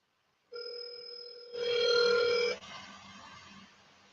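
Telephone ringback on an outgoing call: a steady tone with a bright harmonic stack that swells louder partway through, then breaks off into fainter noisy line sound, with no talking.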